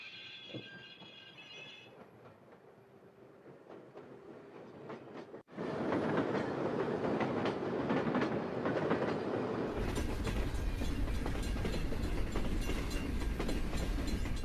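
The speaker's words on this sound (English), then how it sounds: "The train then began to roll downhill toward Lac Mégantic, 7 miles away." A runaway freight train rolls downhill on rails toward Lac-Mégantic, with a steady, loud rumble of wheels and cars that rises sharply in level partway through. It then continues as dense, sustained noise with no voices.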